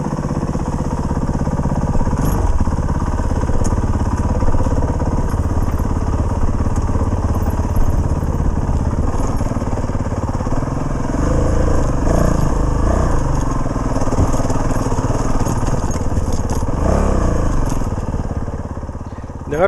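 A Honda CRF450RL dirt bike engine runs loud and close for the whole stretch, a steady rumbling idle with clattering and crunching over rocks as the bike is walked down a rock formation.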